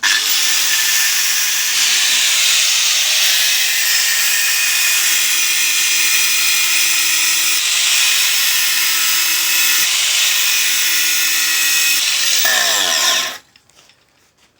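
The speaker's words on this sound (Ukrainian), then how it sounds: "Після того пробуємо болгаркою." An angle grinder whines steadily at high pitch as it cuts stainless steel, loud and close, then spins down and stops near the end.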